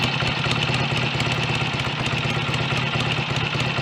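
A BSA A65 motorcycle engine idling at about 1000 rpm, a close, steady ticking-over putter with even mechanical clatter and no talk.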